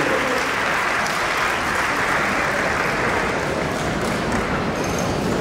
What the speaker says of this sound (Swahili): Tupige makofi TPA.